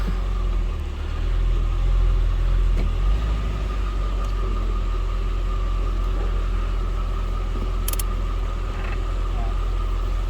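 A 2005 Mercedes AMG E55 with a slipping automatic transmission runs through a shifter test, giving a steady, loud low engine rumble with a brief change in tone early on and faint clicks over it.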